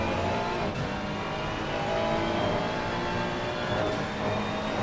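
A Ferrari GT3 race car in Assetto Corsa Competizione drops through gears, with brief blips and breaks in a loud, continuous engine drone over a few seconds and no talking.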